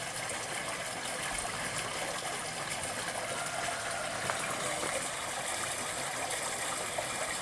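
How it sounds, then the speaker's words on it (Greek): Rainwater runs off and flows away steadily outdoors in Farsala on a rainy October morning, a loud continuous gushing stream that holds a constant level throughout with no voices. "Προς το παρόν αυτό το νεράκι φεύγει από εκεί, βλέπετε."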